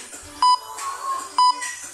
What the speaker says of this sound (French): On va attendre le bip pour récupérer.